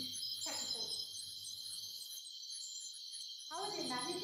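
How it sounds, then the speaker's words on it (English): A steady, high-pitched chorus of many crickets calling together at night, continuous throughout, with a few faint low sounds beneath. "there's a large number of crickets all calling together"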